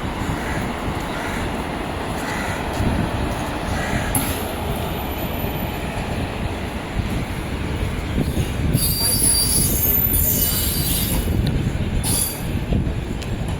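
The West Coast Express, running from MGR Chennai Central to Mangalore Central, rolls past the Arakkonam station platform with a loud, continuous rumble and high, piercing wheel squeals that come and go. Faint voices sit underneath.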